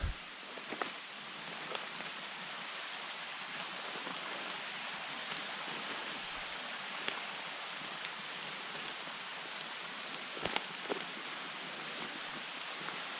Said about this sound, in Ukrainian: Погано, що сьогодні дощик і дуже слизько